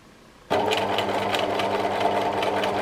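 A sewing machine stitching free motion embroidery on a memorial quilt starts abruptly and runs steadily, a close, continuous mechanical whir with a fast regular needle rattle and no talking.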